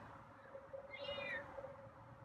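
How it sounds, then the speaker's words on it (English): A feral cat lets out one drawn-out meow, fairly faint and close, over a low steady background hum. "That's probably why you're meowing so much"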